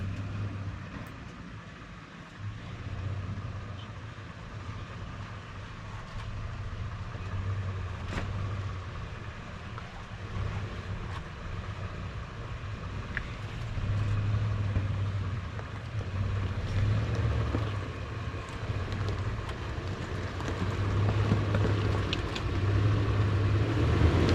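A Toyota FJ Cruiser crawls over a rough, holed, off-camber trail in the New Mexico wilderness, its engine a steady low rumble from inside the cab with rattles and creaks of the body over the uneven ground.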